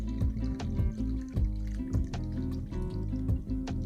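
Champagne is poured into a glass right up to the rim, a bubbly, gurgling trickle with small splashes and fizz, close and fairly quiet, no voices.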